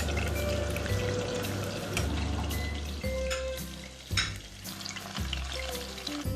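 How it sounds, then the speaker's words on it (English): Chicken pieces frying in hot oil, a steady close sizzle and crackle with a few louder pops and bursts, and no talking. "Okay, we can see that our chicken is frying nicely"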